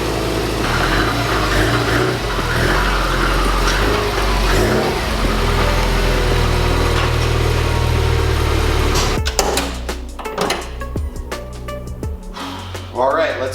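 A 500 hp Subaru STI's engine drones steadily and loudly as the car is pulled back in, then the rumble cuts off and gives way to sharp knocks and clanks.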